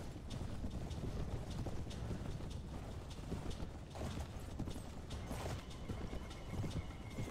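Horse hooves gallop in the Mount & Blade: Warband video game, a fast steady clatter mixed with battle noise, occasional whinnies and clanking, forming a dense continuous din.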